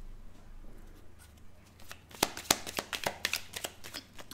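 Tarot cards are shuffled and drawn at close range, with a quiet lead-in before a run of crisp, snappy riffles and flicks building in the second half, with no talking.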